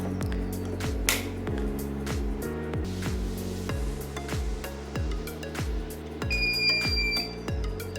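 An Eastman solar inverter gives a high, sustained electronic beep as its mains power is switched, heard near the end over a rhythmic, repeating electrical hum and thumping.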